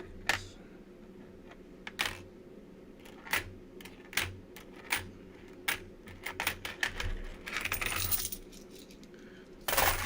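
Coins dropping and clinking while someone searches through a box of quarters, a run of sharp metallic bursts scattered irregularly across the whole stretch, close and fairly loud with no talking.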